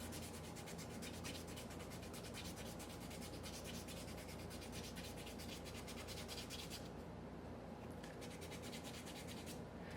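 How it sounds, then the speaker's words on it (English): Sandpaper rubs steadily against the end of a turned wooden spindle, a dense continuous scratchy hiss with no pauses, close by, a brief quieter spell near the end. "clean up the end"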